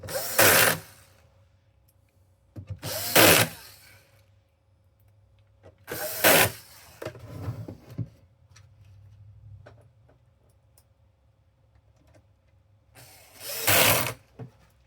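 An automatic screw gun backs out screws from an Xbox Series X console in short bursts of whirring, ratcheting buzz, four separate runs spaced by quiet pauses, close and loud.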